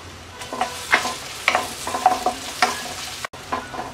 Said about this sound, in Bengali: রসুনটাকে হালকা ভেজে নেব।